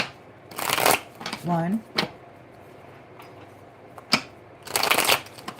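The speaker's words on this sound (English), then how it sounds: "Okay, so 3 shuffles and then we'll pull cards." Tarot cards being shuffled in several quick riffling bursts, close and crisp, with someone speaking briefly between them.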